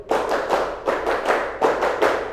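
A group of people claps out a call-and-response chant game, sharp bursts of hand claps coming in short rhythmic clusters, close and fairly loud with brief gaps between the patterns.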